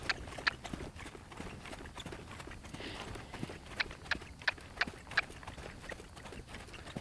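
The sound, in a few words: off-track thoroughbred horse hooves walking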